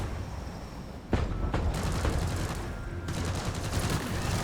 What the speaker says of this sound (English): My turrets can handle the little crappy dudes that really come up